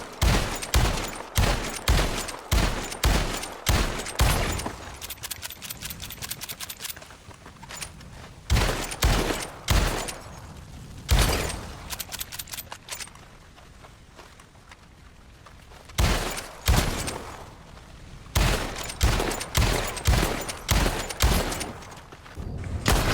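Rapid volleys of gunfire crack out during target practice in Red Dead Online, loud close bursts of quick successive shots broken by short pauses, with faint footsteps in the quieter gaps.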